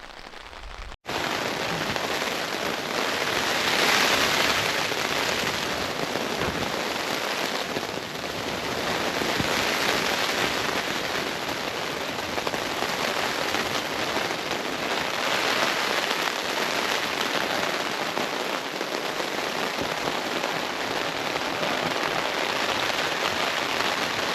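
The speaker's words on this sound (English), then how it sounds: "it's probably 30, 40 mile an hour winds and heavy, heavy rain" Heavy rain pours steadily and close for the whole stretch in 30 to 40 mph winds in Alaska, a dense continuous hiss with gusty surges, and no voices.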